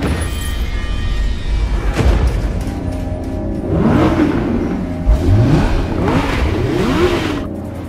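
An Audi sports car engine revs and accelerates in a series of rising and falling swells, loud and close, over a steady motor rumble with no talk.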